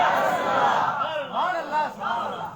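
A crowd at a Milad-un-Nabi celebration chants slogans in unison, loud massed voices rising in rhythmic waves, with one shout swelling and falling after another.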